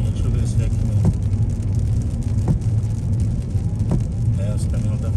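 A truck drives along a highway with a continuous rumbling road and engine noise and a few faint thumps, heard from close by.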